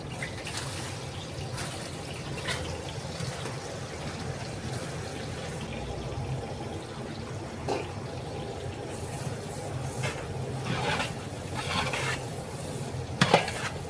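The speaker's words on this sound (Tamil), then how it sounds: "வெங்காயம் நல்லா செவங்கோடுங்க" Four kilos of large onions frying in oil in a big pot for a 12 kg chicken biryani, a continuous low sizzle with frequent stirring scrapes and clanks, close and steady, no talk.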